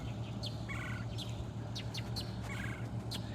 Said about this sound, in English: It is that woodpecker.